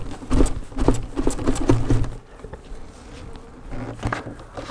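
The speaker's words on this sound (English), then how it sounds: "Shake these bees off." Honey bees buzz loudly as they are shaken off a liquid feeder during a fall beehive inspection, with a few sharp knocks from the shaking, then a steadier, quieter hum of bees close by.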